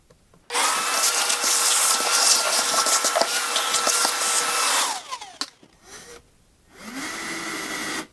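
A loud, steady whine of a cordless Milwaukee power drill with new bits grinding through metal for about four seconds, stopping, then a shorter second burst after a pause.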